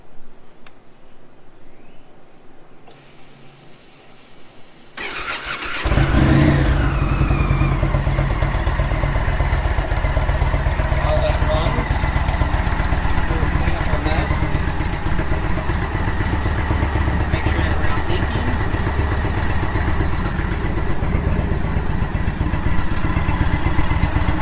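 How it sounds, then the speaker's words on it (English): An Indian Roadmaster motorcycle engine cranks and catches after about five seconds of quiet, then settles into a steady, loud, close idle as it warms up, with a faint mechanical clatter running through the rumble. "we will now fire the bike up and let it get up to operating temp"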